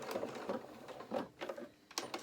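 A sewing machine stitches the end of a seam on a small sailing anorak, running in quick, quiet bursts of rapid stitching with short pauses as it reverses.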